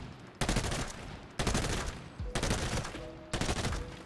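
A budget build firing armour-piercing ammo at about 800 rounds per minute in Arena Breakout: Infinite: four loud, rapid bursts of automatic fire, each about a second long, separated by brief pauses.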